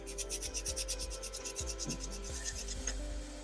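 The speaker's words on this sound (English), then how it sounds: "I could probably maybe sand it down a little farther" Hand sanding of a wooden biscuit-joiner pumpkin, rapid rhythmic back-and-forth rubbing strokes, close and moderately quiet over a low steady hum.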